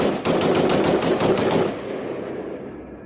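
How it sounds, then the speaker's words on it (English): A rapid burst of automatic gunfire plays back from a video, about a dozen sharp, evenly spaced shots in quick succession, loud and close, then a fading echoing tail with no talk. "That's a gun."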